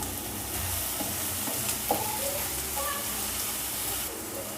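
Chicken with ginger garlic paste sautéing in a pan for chicken varuval, a steady close sizzle with stirring scrapes and brief clinks throughout.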